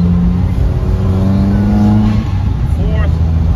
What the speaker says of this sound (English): second gear going into third,